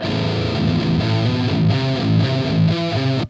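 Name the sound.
distorted metal guitar through Emissary amp simulator in FL Studio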